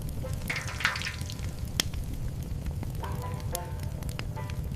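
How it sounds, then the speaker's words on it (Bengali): Mustard seeds and curry leaves sizzle in hot oil in a kadai set on a stove, a steady, fairly quiet crackling hiss that runs the whole time with a few sharper pops. "গরম তেলে সরিষার বীজ এবং কারি পাতা সিজলিং হচ্ছে।"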